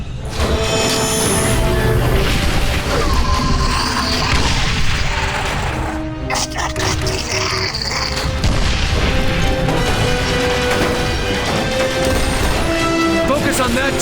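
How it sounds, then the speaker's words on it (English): Loud, continuous bombardment explosions and heavy booms in The Bureau: XCOM Declassified, crashing and rumbling densely throughout under battle noise, with voices shouting over the chaos. "Bombardment now!"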